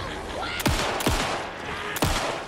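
Heavy gunshots in Alan Wake 2, three loud booming blasts spaced about half a second to a second apart, each with a falling, echoing tail over a steady noisy background.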